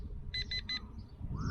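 DEERC D40 mini drone controller giving three quick high beeps in a row, faint over low rumbling handling noise.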